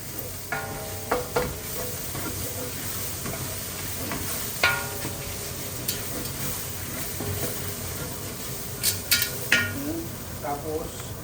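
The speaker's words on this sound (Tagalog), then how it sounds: "Lagyan natin ang green curry. Haluin natin para kumalat." Thai pork green curry being stirred in a pan, a constant hissing sizzle under scattered utensil scrapes and a few sharp metallic clinks, close by.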